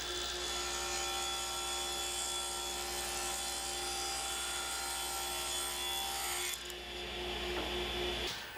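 A table saw rips a wood board for a box lid and bottom, a steady whining cut of about six seconds, close and loud, that breaks off as the blade clears the board, followed by a brief clunk.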